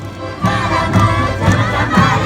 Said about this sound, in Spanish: Esos aplausos para recibir a nuestros carnavaleros